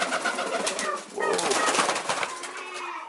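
Owl and frillback pigeons in a loft make a soft, continuous cooing and burbling close by, with a brief exclaiming voice partway through.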